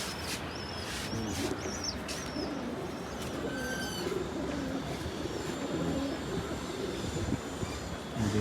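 Black tournament pigeons cooing near and far, soft repeated coos and chirps over a continuous rumbling background that sounds like a train.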